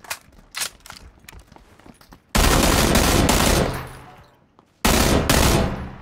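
Loud automatic gunfire from a PUBG match, a burst around the middle and another near the end, with quieter game sounds between.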